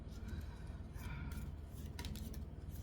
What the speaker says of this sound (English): These ones are a little weird to shuffle because they're not a square card, they're little heart-shaped cards.